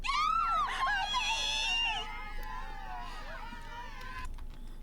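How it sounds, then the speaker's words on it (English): A girl in a video game lets out high, wavering screams and wails, loud at first and then trailing into shakier, quieter cries over a low background hum. "The girl screamed louder."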